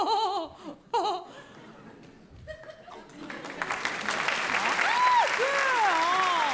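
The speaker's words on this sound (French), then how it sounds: "il y en a 3 qui ont applaudi" At the Théâtre Marigny, voices speak briefly before a theatre audience breaks into clapping that builds into steady applause, mixed with laughter and a few high, sliding whistles.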